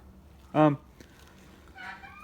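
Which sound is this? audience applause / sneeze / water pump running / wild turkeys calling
wild turkeys calling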